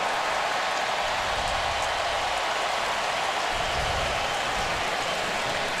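Rain falls over an LSU at Alabama college football game in Tuscaloosa, an even, steady hiss that fills the whole stretch with no talk over it.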